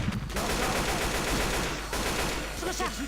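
Loud, dense gunfire fills a Left 4 Dead 2 campaign video game session, rapid continuous shots over a constant game soundscape with brief voice fragments near the end.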